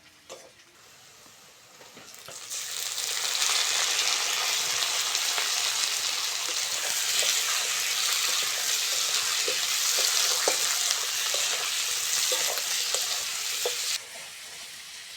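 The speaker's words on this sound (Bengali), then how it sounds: "পেঁয়াজ কাঁচা লঙ্কার সঙ্গে টমেটোটা ভালো করে ভেজে নেবো" Onion, green chili and raw tomato fry in oil in a pan. After a quieter start, a loud, close, steady sizzle rises and holds, with occasional stirring clicks, then drops slightly near the end.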